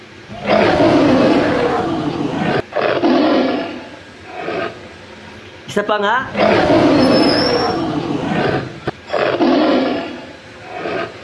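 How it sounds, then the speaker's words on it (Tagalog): A tiger roars four times in long, rough, growling bursts separated by short pauses, loud and close. A voice speaks briefly between the roars. "Ang tunog ng tigre ay"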